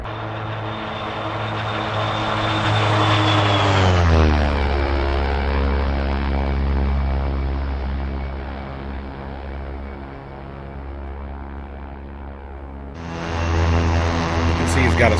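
OV-10 Bronco twin-turboprop aircraft in the DCS World flight simulator, a steady loud propeller drone with layered engine harmonics that shifts pitch and eases down midway before surging back up near the end, with no speech.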